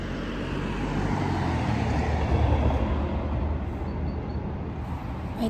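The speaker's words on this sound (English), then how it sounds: "May train na." A train rolls past near a beach in Croatia, a steady, loud broadband rumble with wheel and rail noise holding throughout, alongside faint road traffic and no talk.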